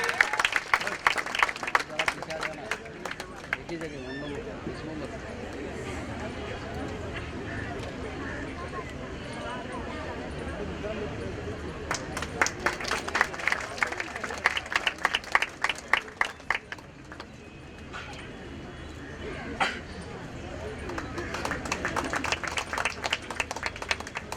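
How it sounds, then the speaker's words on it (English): An audience at a hospital's golden jubilee celebration claps for Joanne in bursts of scattered, crisp hand claps that swell twice, over a steady murmur of voices and talk in the room. "A big round of applause, ladies and gentlemen, for Joanne."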